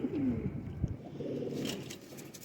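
Golden teddy pigeon cooing close by: a short soft series of low, throaty coos, one brief sharper sound partway through, faint room noise around it and no talk.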